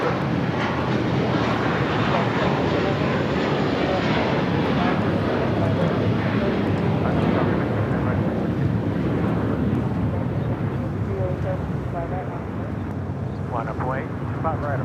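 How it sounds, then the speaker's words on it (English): A Boeing 747-400 freighter rumbles at LAX as a broad, loud jet roar that holds steady and then eases slightly, with wind buffeting the microphone. "this is the last 747-400 freighter be delivered"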